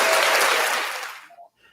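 A burst of applause, presumably from a live audience, loud and dense for about a second before tapering off quickly into near silence, with a faint voice at the end.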